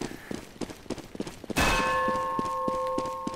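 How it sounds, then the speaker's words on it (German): A bell in the video game CS:GO strikes once with a loud metallic clang. Its tones then ring out and hang in the air over soft thumps and background game noise. "jedes Mal die Glocke läutet"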